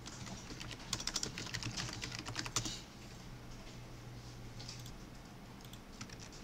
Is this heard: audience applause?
no